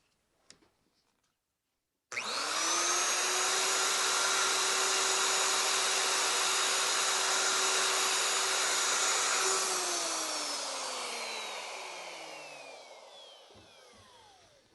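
A wood router cuts a tenon on a frame rail, guided by a mortise and tenon jig. The motor spins up abruptly to a loud, steady high whine with constant cutting noise, holds for several seconds, then winds down slowly in pitch.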